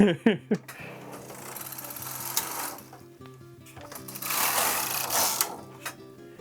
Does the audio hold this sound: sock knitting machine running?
yes